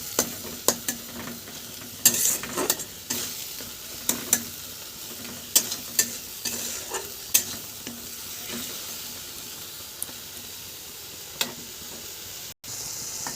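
Spice paste for a cabbage and chickpea ghonto is stir-fried in a pan, with soft sizzling under repeated scraping and clanking strokes of a spatula at an irregular pace.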